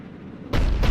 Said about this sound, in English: Looks like Cerberus got that cannon operational